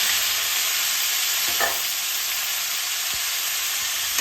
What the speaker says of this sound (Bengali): এবার আমি সেই তেলের মধ্যে অথবা ঘিয়ের মধ্যে আমি আবার এই ব্রোকলিগুলো দিয়ে দেবো